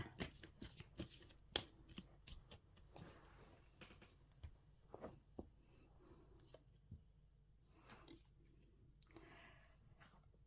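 Tarot cards being cut and shuffled during a daily fortune reading, heard as a quick run of crisp papery riffles and slaps close up, followed by softer sparse card handling with no talk.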